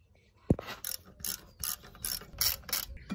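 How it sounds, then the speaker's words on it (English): A ratchet with an extension and socket loosens a brake caliper bolt on a Hyundai ix35. It starts with one sharp knock, then gives a quick run of close, crisp rhythmic clicking strokes. "To get to the second one, I'll use an extension, but the same size socket"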